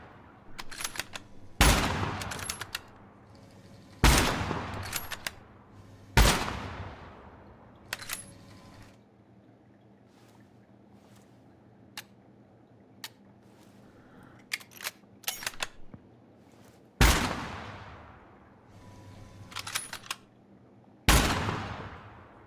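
Guns test-fired in Gunsmith Simulator on PS5: about half a dozen loud, sharp shots at irregular intervals, each ringing out in a short echoing tail, with quiet gaps between and no talking.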